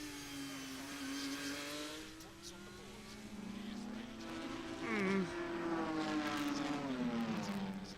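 Porsche race cars scream around the track at the Hungarian Grand Prix, engines rising and falling in pitch as they pass at a distance, fairly faint beneath a person talking over the race.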